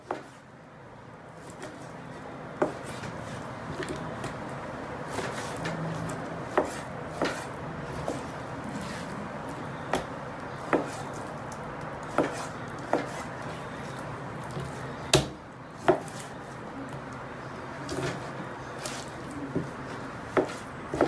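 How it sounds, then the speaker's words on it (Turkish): Knife chopping chicken breast on a board, a dozen or so sharp irregular strikes spread across the clip over a low steady room hum. "Sıra geldi tavuğun doğramaya."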